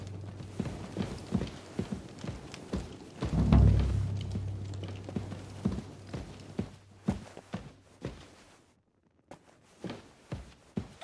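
Horse hooves clip-clopping in the medieval role-playing game Kingdom Come Deliverance 2, an uneven run of moderately close hoof thuds on hard ground, with one heavier thump partway through and a brief quiet gap before the steps resume.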